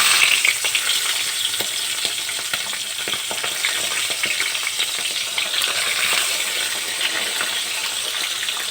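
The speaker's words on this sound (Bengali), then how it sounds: "তেল গরম হয়ে গেছে তেলের মধ্যে আমি ইলিশ মাছের মাথা দিয়ে দিলাম" Hilsa fish head frying in hot oil, a steady loud sizzle and crackle with scattered sharp pops and spatters, no voices.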